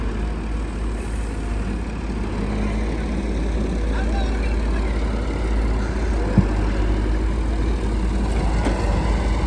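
A tractor engine runs steadily in the background of a crane and trolley job, a constant low rumble holding even loudness throughout, with one brief knock near the end.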